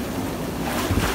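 Ocean surf breaks at a beach where surfers paddle out. A loud, continuous roar of waves is mixed with heavy wind buffeting the microphone, and there are no voices.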